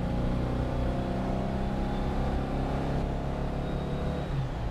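Porsche 356 engine with Solex 40P11 carburetors, running lean while driving in second gear: a steady, even drone of engine and road noise that holds at a constant level, with no voices.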